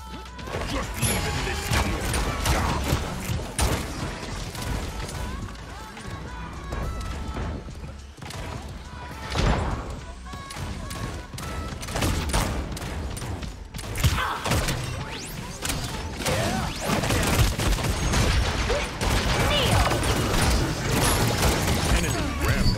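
Dense video-game combat with repeated shots, crashes and thuds rolling almost continuously over a loud, busy mix, with a player's voice woven in.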